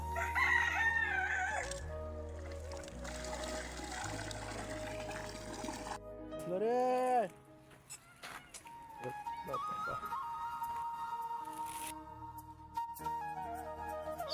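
Chickens being fed, with a rooster's loud rising crow standing out midway through, surrounded by scattered clucks, clatter and other background farmyard noise.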